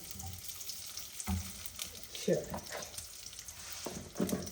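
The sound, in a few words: ghee being poured into a pan and sizzling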